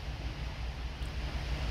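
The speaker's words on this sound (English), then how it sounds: "Suncook River flowing strong today" The Suncook River rushes strongly over Short Falls, swollen after weeks of steady rain, making a continuous broadband roar of moving water with no voices.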